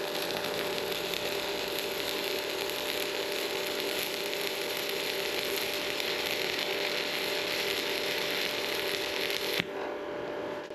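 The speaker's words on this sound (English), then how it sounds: "Now I'm going to make some more beads so you can hear the sound of the arc from each electrode." A stick welding arc lays beads with a continuous dense crackling hiss, fairly close and steady, that stops abruptly near the end.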